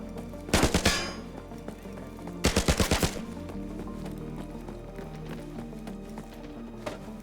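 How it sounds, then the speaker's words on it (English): Suppressed M4 rifle fire in the shooter game Arena Breakout: Infinite, two quick bursts of muffled snapping shots, about four to five each, fairly close over low ambient background, with a lone faint shot near the end. "Just up ahead, we hear the shots of a suppressed M4."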